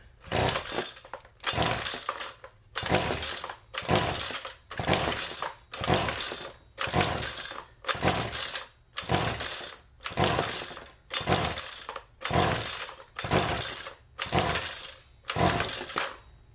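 A curb-found Husqvarna 128CD trimmer is pull-started over and over with the throttle held wide open, about fourteen evenly spaced rasping cord pulls, each a short loud burst with brief quiet gaps between, and no sign of the engine catching.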